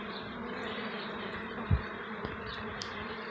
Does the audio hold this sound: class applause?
no